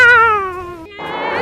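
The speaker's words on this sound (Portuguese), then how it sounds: "Vocês contando com um grito do gato." A cat screams in one loud, drawn-out yowl that slides downward in pitch, breaks off briefly, then ends in a harsher, rasping cry, all close and alone.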